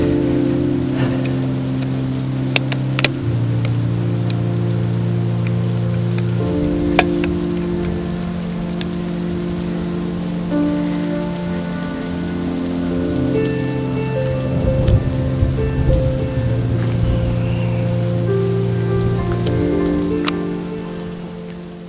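Rain falls outdoors at a landscape spot as a steady patter with sharp drop hits scattered throughout, while a low droning tone shifts in pitch underneath for the whole stretch.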